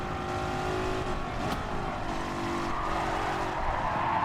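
A 1955 Mercedes racing car in a video game roars along with a steady engine drone while its tires skid and squeal, losing traction, a sharp transient cutting through midway.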